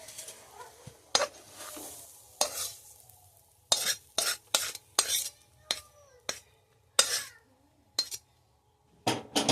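Cooked cauliflower filling is scraped out of a pan onto a plate in a series of short, sharp scrapes and metallic clinks separated by quiet gaps, close and fairly crisp.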